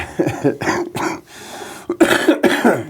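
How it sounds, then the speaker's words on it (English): Several loud, harsh coughs close up, coming in quick bursts with brief pauses between them. "So I actually cough."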